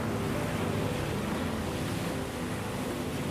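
Sea waves wash and roar in a continuous broad rush, loud and close with a windy, blustery texture and no voices.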